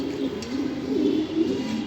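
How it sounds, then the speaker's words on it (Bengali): A female pigeon coos in a low, continuous rolling murmur, close and steady for about two seconds with no talking. "একটা মাদি কবুতর"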